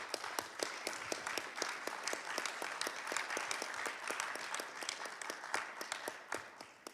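Applause from a conference audience in Baku, a fairly faint but steady patter of many hands clapping that continues throughout with individual claps standing out, no talking over it.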